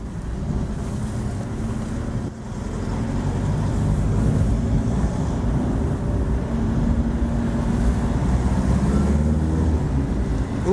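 A classic car with a B-series engine gives a throaty, steady drone from inside the cabin on the drive, with low rumble and some wind noise and no talk.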